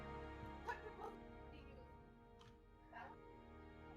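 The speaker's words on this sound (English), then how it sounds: "Did I hear another doggy?" A dog gives a few short yips and whimpering barks at a moderate distance, scattered over a few seconds against a low steady background hum, with talk also present.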